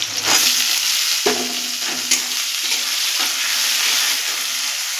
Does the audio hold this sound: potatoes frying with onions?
yes